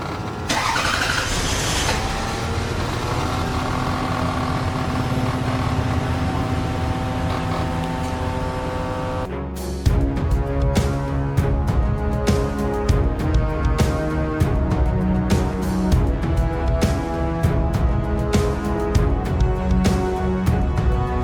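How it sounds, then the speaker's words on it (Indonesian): A car engine cranks over on the starter for several seconds, a dense grinding whir, then catches and runs with a busy rhythmic clatter, loud and close with no talk. "Ketika mobil mulai di starter, keajaiban pun terjadi. Mesin mobil itu benar-benar bisa hidup."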